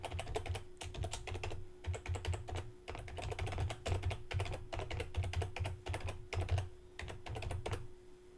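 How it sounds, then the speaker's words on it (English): A website address is being typed on a computer keyboard, heard as fast, steady bursts of close, soft key clicks with brief pauses between runs, quiet overall and with no voices. "Next, you'll type in your website URL."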